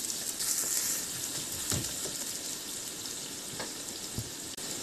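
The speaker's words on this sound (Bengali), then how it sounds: "তেল গরম গিয়ে দিলাম পেঁয়াজ কুচি" Chopped onions sizzle steadily in hot olive oil in a pan, a soft continuous crackle with occasional light clicks of stirring, fairly quiet and without talk.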